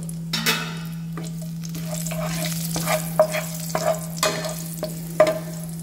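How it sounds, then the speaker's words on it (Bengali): Whole spices, a cinnamon stick, cumin seeds, whole red chillies and bay leaves, sizzling in hot oil, a soft steady fry punctuated by sharp scrapes and taps of a spoon against the pan, no talking. "ঢেলে দিচ্ছি এখন কিছু হোল স্পাইস, যেখানে আছে সিনামন স্টিক আর কিছু কিউমিন সিডস, দুটো হোল রেড চিলি এবং দুটো তেজপাতা।"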